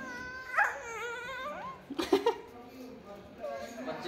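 Pug puppies whimpering in high, wavering whines that come in a few short bursts, fairly close, with some background noise between them.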